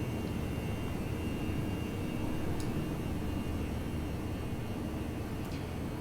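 Steady, loud jet engine roar from a Toliss Airbus A319 taking off in X-Plane 11, a continuous broadband rumble that holds constant throughout with no talking.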